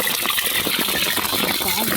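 Rainwater drips into chicken cooking on an outdoor stove during rain, a steady wet patter and splashing close by with scattered drop impacts throughout.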